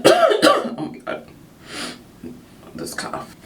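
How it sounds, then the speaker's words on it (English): A person coughs a few times in quick, close bursts on a race-day morning, with a faint clink of dishes and light movement between the coughs. "This cough."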